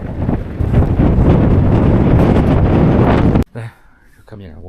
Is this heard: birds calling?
no